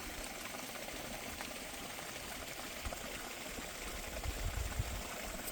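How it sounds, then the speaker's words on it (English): A mountain stream on the Appalachian Trail flows with a steady, close rushing and gurgling that holds an even level throughout, with slightly stronger splashes near the end and no talking. "The water."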